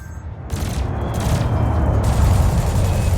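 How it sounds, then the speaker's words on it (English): Cannon and laser weapons fire in the space combat game Elite Dangerous, a dense, continuous burst of rapid booming shots with sharp crackling bursts layered over a heavy rumbling low end. "your laser will fire until the capacitor is depleted"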